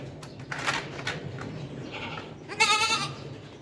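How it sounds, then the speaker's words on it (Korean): A mother goat kept with her week-old kid in a small movable pen gives a couple of short close bleats, the last one loud and wavering, amid light rustling. "최근에 새끼 난 염소 관리하고 있는 중이에요"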